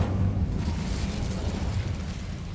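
Incendio fire spell cast in Hogwarts Legacy, a loud sudden whoosh of fire that roars on as a continuous rumbling blaze, dense and close, tapering slightly near the end without any voices.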